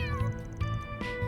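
A cat in the Trails through Daybreak 2 video game meows three times in quick succession. The calls are close, clear and tonal, and they stand alone over a soft music bed.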